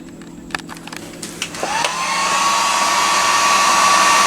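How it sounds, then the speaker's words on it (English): A heat gun heats the inner race of a bearing from a 2000 Yamaha YZ250 transmission. A few light clicks come first, then a steady whooshing blower hum that rises in pitch as it spins up and holds close and continuous. "take a heat gun and just heat this inner race up"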